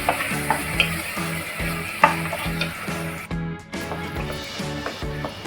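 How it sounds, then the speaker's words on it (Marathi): Ground coconut masala paste fries in hot oil in a pan for Maharashtrian khobrya rassa, with a steady close sizzle and a rhythmic stirring scrape repeating about every half second. "जे वाटण बनवलेलं आहे ते आता आपण याच्यामध्ये टाकणार आहोत हे आता आपण व्यवस्थित असं शिजून घेणार आहोत"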